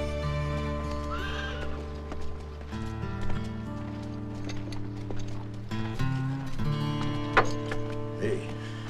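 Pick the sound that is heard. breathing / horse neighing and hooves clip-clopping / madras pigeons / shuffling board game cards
horse neighing and hooves clip-clopping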